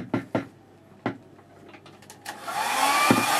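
A hair dryer switches on after a few knocks and taps, then blows a steady, rising airy roar over a watercolour painting of Buttermere.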